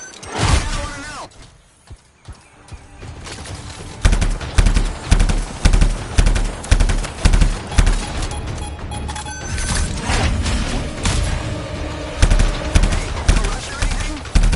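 Turret gunfire in the video game Anthem, with rapid loud bursts of automatic fire and mechanical clatter that keep going under a dense wash of game sound.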